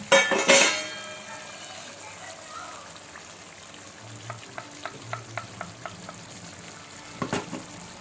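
Tomato and green chili paste goes into a hot curry pot for chicken curry biryani with a loud initial splash and hiss, then a low sizzle with a run of sharp spoon taps against the pot.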